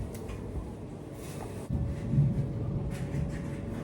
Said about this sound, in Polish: Jest burza.